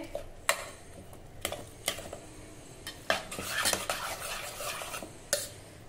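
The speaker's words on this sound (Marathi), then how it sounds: "आता हे डावाच्या साहाय्याने आपल्याला नीट हे असे घोटून घ्यायचे आहे" A metal ladle mashes cooked wheat inside a pressure cooker for a traditional Khandeshi wheat kheer, giving irregular sharp clanks against the pot between softer scraping and stirring sounds, close and alone.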